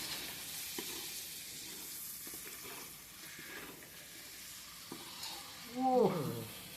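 Pitha frying in a pan, a soft continuous sizzle at close range with faint stirring, rising into a louder, brief burst of spitting near the end.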